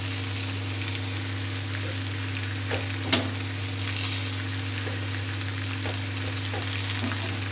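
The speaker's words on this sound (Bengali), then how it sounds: "সব মিশিয়ে দেবো ভালো করে আলুর সঙ্গে" Potatoes for Kashmiri alur dum fry in a pan while cumin and chili powders are stirred in, a continuous loud sizzle with a steady low hum beneath and occasional utensil scrapes and knocks.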